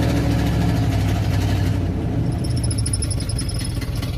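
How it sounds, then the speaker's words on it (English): A car engine idles roughly at close range because its carburetor is not feeding gas to one side, giving a low uneven chugging throb that runs steadily throughout, with a faint high whine joining partway through. "One side of the carburetor is not feeding gas down one side of the engine when it's idling."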